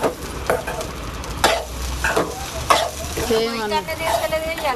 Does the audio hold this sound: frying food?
yes